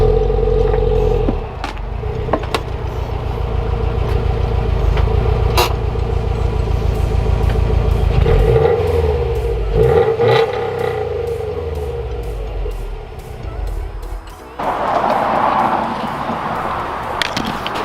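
A warm Subaru WRX STI engine idles with a deep rumble, then revs and strains as the car creeps up onto ramps; the throaty engine note swells and fades, with a rougher burst of noise near the end.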